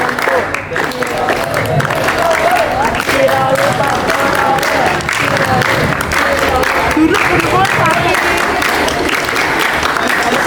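Scout group doing the tepuk pandu clap chant at an ambalan induction ceremony at a vocational school, dense steady rhythmic clapping mixed with chanting voices throughout, loud and close.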